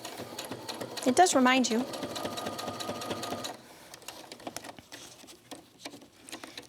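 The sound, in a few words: sewing machine stitching fabric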